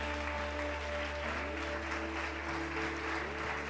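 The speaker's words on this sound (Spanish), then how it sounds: "Dale ese fuerte aplauso a nuestro Dios." A church congregation applauds together in a steady, dense wash of clapping that holds for the whole span, with a faint sustained organ-like tone underneath.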